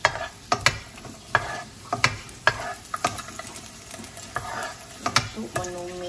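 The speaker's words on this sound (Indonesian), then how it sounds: "kita tumiskan sedikit bawang putih dan cili kering" Garlic and dried chili sautéing in olive oil over a small flame, a gentle sizzle punctuated by sharp clinks and scrapes of a utensil against the pan at irregular intervals, close up and without speech.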